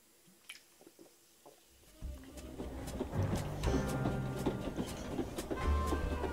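A train rumbles past in the video game Detective Frog 3, starting quietly with scattered clicks, then swelling into a loud, sustained rolling rumble with rhythmic clatter that carries on to the end.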